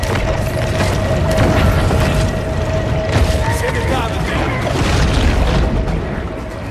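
Torpedo explosions in the underwater video game Maneater form a dense, loud, continuous rumbling boom with scattered bursts layered on top.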